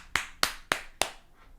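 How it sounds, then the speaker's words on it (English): Four sharp hand claps in a quick, slightly uneven rhythm, close and crisp, each with a short room echo trailing off, then quiet. "that's a good clap."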